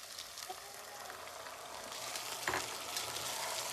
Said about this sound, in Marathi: मटकी अशी तेलामध्ये मस्त परतून घ्यायची 5 मिनिट पर्यंत